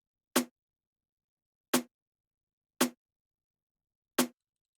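Four sharp, isolated snare hits from a beat mix with an effect applied. Each strike is bright and snappy, decays quickly and is spaced about a second apart in otherwise silent space.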